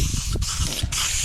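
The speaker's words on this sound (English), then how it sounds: "make sure we spray the wood as well." An aerosol spray can coats the wood on a tinnie boat's front deck in two bursts of steady hiss, close up, with a brief gap between them.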